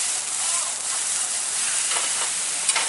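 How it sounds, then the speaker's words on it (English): Eggplant searing and browning in a hot pan, a steady bright sizzle that hisses evenly throughout at close range. "You want it to be able to sear and brown."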